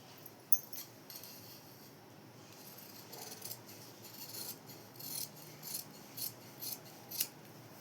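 Scissors snip through blouse lining fabric in a series of soft, close crunching cuts that come in a quickening rhythm, quiet and without talk.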